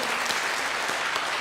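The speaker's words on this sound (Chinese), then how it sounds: "我们拍手赞美我们的神好吗" A church congregation claps hands together in praise during a Sunday worship service, a dense, steady burst of applause filling the room with no voices standing out.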